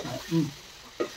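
Duck meat fries in a pan with a brief sizzle and a stirring scrape. The sound is soft and short, with a faint voice nearby.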